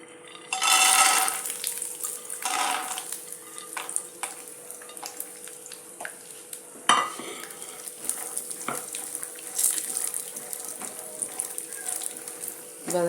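Peanuts lightly frying in a pan for rawa idli chutney, giving a soft crackling sizzle with intermittent clatters and scraping of a spoon, plus a steady background hum; faint kitchen noise throughout, no clear talk.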